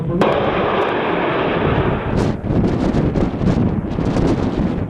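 Mi-24 military helicopters during a combat exercise, a loud continuous rotor and engine roar with heavy wind buffeting, joined midway by a rapid series of sharp bursts like gunfire or rockets.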